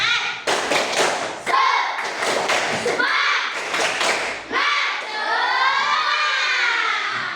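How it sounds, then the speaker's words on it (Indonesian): A group of children doing tepuk semangat, a classroom rhythmic clap chant, with quick claps and thumps mixed into loud, close, overlapping shouted voices throughout. "kita melakukan tepuk semangat"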